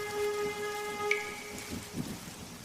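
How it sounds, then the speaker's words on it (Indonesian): Steady rain falls in a soft, even wash with scattered heavier drops, continuous and moderately distant, with a faint tonal hum running underneath. "Tiba-tiba, hujan turun."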